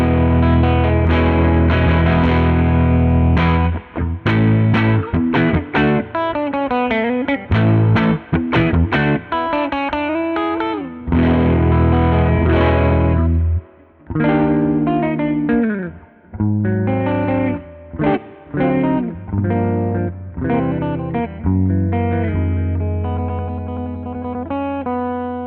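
A Fender Jazzmaster electric guitar runs through a Benson Chimera amp plugin, playing loud, dense distorted chords and riffs with chorus-like shimmer, rhythmic strums and short gaps, continuous and alone with no talking.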